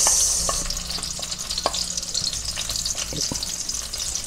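Chopped onions go into hot oil in a pan and sizzle steadily and close, a dense frying hiss with occasional pops and stirring scrapes, no voices.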